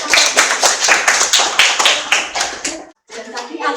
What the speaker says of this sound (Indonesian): beri tepuk tangan untuk kelompok 1.